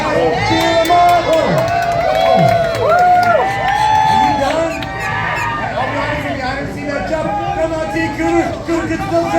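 A crowd cheers and shouts at a gator jumping show at Gatorland in Orlando, with children's shrieks and whoops over a continuous loud roar, while an announcer's amplified voice carries through the din.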